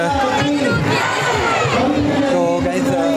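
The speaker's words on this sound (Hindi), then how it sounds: "गाइस यहाँ पर बहुत भीड़ नज़र आ रही है" Dense crowd noise at a Tapti Janmotsav festival gathering for the river goddess, with many overlapping voices, shouts and children's cries forming a loud, continuous din close around.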